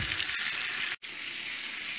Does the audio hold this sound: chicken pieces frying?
yes